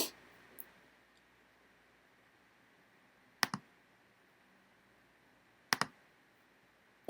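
Computer mouse clicks while managing passwords, three sharp isolated clicks spaced seconds apart over a quiet room background, plus a fainter click near the start.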